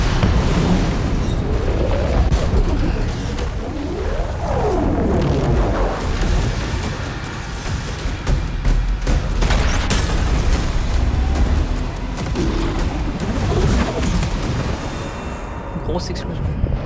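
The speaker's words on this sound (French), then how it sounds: "Grosse explosion." A big explosion booms in the video game DOOM The Dark Ages, dense rumbling blasts and crashes layered over a continuous roar of game effects, with someone talking over it.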